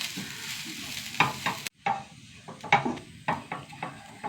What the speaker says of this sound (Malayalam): തേങ്ങ നന്നായി വറുത്ത് വരണം കേട്ടോ.